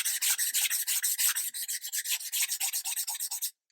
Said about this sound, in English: As I'm sanding this surface